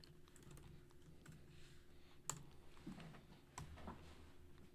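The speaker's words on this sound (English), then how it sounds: "I'll go ahead and type out what solution I want to approach with" Quiet typing on a computer keyboard, a soft stream of light key clicks with a few sharper taps standing out.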